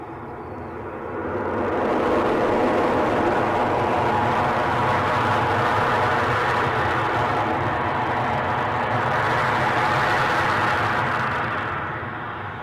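Boeing 737 landing at Edinburgh airport, a broad roaring jet rush that swells up, holds steady and loud for several seconds, then begins to fade.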